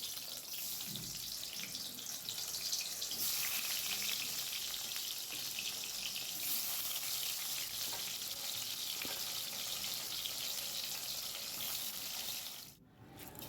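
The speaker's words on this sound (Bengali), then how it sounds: "বাকিটুকু এবার ওইভাবেই ভেজে নেব।" Slices of ash gourd frying in oil, a continuous close sizzle and crackle that stays steady for several seconds, with a short dip in level near the end and no talking.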